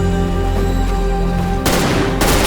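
Dense automatic gunfire from the video game Wasteland, a continuous loud fusillade with a sharp burst of heavier shots near the end, over steady tonal game music.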